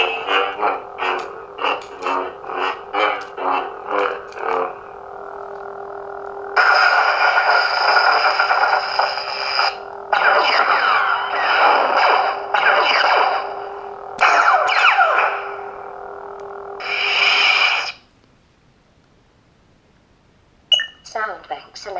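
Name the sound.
lightsaber sound font Skywalker ROTJ on replica saber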